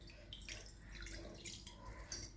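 Water poured into a pan for making rava kesari from an instant mix, a soft, splashy trickle with faint drips, quiet and close, rising slightly toward the end.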